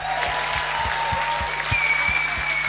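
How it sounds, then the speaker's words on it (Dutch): A talent show audience applauds the winner with steady, sustained clapping that fills the room from start to finish, and a faint whistle rises partway through. "Nog één keer een groot applaus voor Famke."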